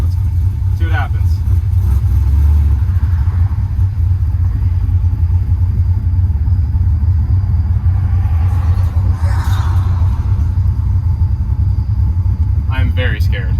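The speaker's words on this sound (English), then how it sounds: "first test drive in the GTO" A restored 2004 Pontiac GTO on a test drive, a loud, steady low engine rumble heard from inside the car throughout, with road noise and a few faint rattles and clicks.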